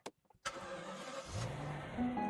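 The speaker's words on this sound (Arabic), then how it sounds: "الحين نشغل السيارة" A Rox Rise RR car engine cranks and catches, then settles into a steady idle with a slight rise in pitch, close and moderately loud after a few soft clicks.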